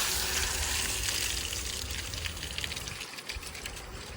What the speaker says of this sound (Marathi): आता या टायरचं काम चालू आहे, पाणी भरायचं काम चालू आहे